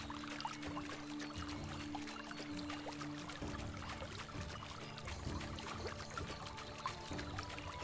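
Running water from a stream in Medieval Dynasty, a steady trickling and pouring wash that holds at an even level throughout with a low tonal hum underneath.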